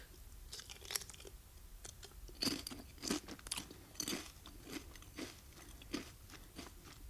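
Crunchy potato chips are chewed right against a microphone, giving loud, close crunches and bites in an uneven rhythm with no talking.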